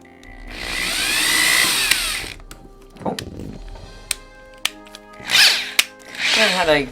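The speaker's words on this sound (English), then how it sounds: "And I'm going to drill that hole in." A power drill with a 1/16 inch bit bores a hole in a Nerf Doublestrike blaster, whirring steadily for about two seconds up close, followed by clicks, taps and handling noises of the plastic part.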